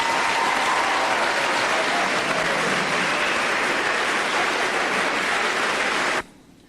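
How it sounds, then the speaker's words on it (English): A junior high graduation audience claps for the graduating group in a long, dense round of applause that holds steady and loud for several seconds before stopping abruptly. "may we have a round of applause for this group"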